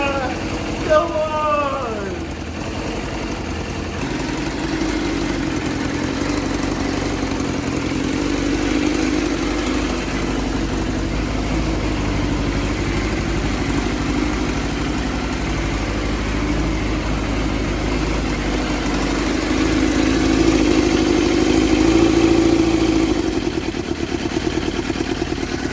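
A Yamaha FZR400 motorcycle engine idles steadily on choke, a continuous low rumble with slight revving near the end and a brief clatter at the start.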